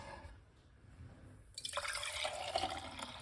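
Strained beetroot juice starts pouring halfway through, a splashing, trickling stream that runs loud and close after a faint, quiet start.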